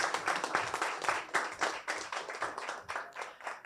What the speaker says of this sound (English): give a rousing applause to my team